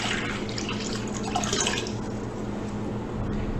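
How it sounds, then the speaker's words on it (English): Cold water running into a bowl from a tap, a continuous close splashing rush with a steady hiss, no voices. "take some cold water and fill up our bowl"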